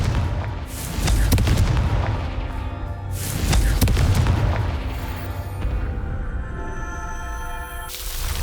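A Confringo blasting curse from Hogwarts Legacy detonates in heavy booming explosions, two big rumbling blasts about two seconds apart, then a long low rolling decay and a sharp crack near the end.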